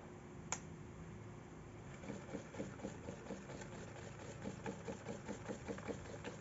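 A homemade magnetic stirrer spinning plain water clicks on and settles into a steady, close motor whir with a faint rhythmic pulsing, its spinning part rotating along with the stirrer; no one speaks.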